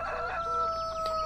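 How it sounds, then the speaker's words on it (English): Chickens in the Farming Simulator 2013 video game cluck and crow steadily, close and clear, with a sustained tonal call over the clucking. "oh, chicken, chicken, chicken, chicken. Speaking of chickens, this is the chicken pen here."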